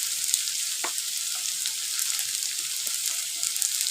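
Cumin and coriander seeds sizzling in hot oil for a masoor lentil tadka: a steady, close, bright frying hiss with small scattered pops and spatters throughout, no talking.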